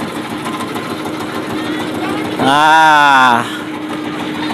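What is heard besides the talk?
small river boat engine running nearby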